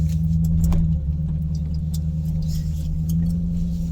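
A car drives along a rural mountain back road, its engine a steady, close, loud drone that holds throughout with no talking.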